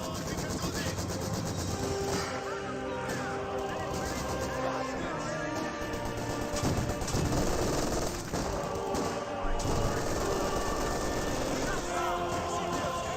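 Vickers machine gun fire in a Company of Heroes 2 battle, a steady rattling chatter that runs the whole time beneath a continuous stream of talk, mixed with other battlefield noise.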